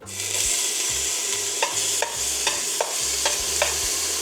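Onions sautéing in oil in a pot for a chicken tinola soup, a steady close sizzle broken by repeated clacks and scrapes of a stirring spoon against the pot.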